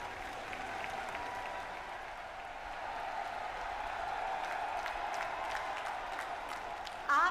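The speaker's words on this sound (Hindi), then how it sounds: "जोरदार तालियां बजाएं।" A large crowd applauds steadily at a political rally in India, moderately distant and sustained throughout, with a brief louder burst near the end.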